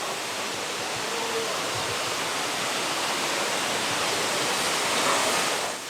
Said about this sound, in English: Look at the force of that water tumbling over the edge.